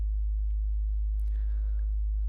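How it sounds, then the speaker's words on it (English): A pure sine tone from a signal generator, tuned to the pitch of a minimal techno kick drum, holds as a steady low hum throughout, alone and clean, with faint brief chirps partway through. "if you zoom in enough, it's just a sine wave"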